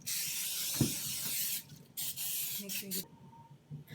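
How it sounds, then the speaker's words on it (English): Short bursts of butter spray from an aerosol can hissing near onto a cake pan, with soft handling noises and a faint background hum between them. "We use any type of butter spray, and we are using that butter spray, and so let her spray it."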